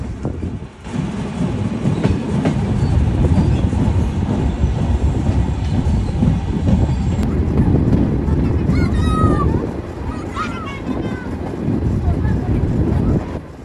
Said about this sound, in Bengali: ফাইনালি আমাদের ট্রেন চলে আসলো